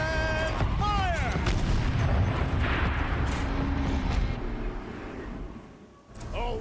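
Tank turret cannon fire in the video game New Horizon, a loud booming blast with rumbling low end, trailed by a descending whistle and fading rumble, with faint voice-like game chatter in the mix.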